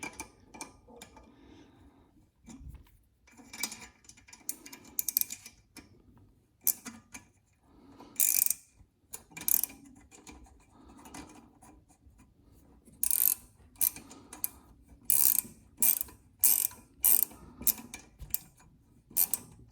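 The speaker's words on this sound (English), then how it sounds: "And we'll get a 10mm wrench." A 10mm ratchet wrench turns bolts on a Honda GCV160 mower engine, giving bursts of quick clicking pawl ticks, sparse at first, then repeated rapid runs of ratcheting close up, without speech.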